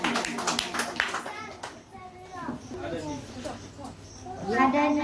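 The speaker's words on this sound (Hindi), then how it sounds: "जोरदार तालियों से स्वागत करें चारों" Scattered hand clapping welcomes four schoolgirls coming up to sing a flag song at an Independence Day celebration at a children's coaching centre, the claps loosest near the start and mixed with children's voices and talk throughout.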